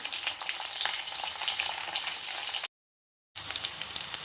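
Curry leaves frying in hot oil for poha upma make a dense, steady crackling sizzle close by, briefly cut to silence before resuming.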